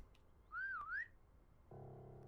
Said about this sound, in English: Give it a bit of a whistle.